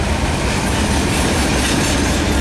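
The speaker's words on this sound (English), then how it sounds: "Train." A Norfolk Southern freight train with AC44 and SD70ACu locomotives passes near Shawsville, making a loud, steady, close roar of rolling wagons and wheel noise with no break.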